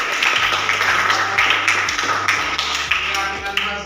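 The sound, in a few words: class applause for the groups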